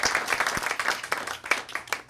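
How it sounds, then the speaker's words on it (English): An audience at a panel discussion on UFO secrecy and government breaks into scattered applause, a moderate patter of claps with uneven individual hits, with no voices over it. "Let's applaud that point."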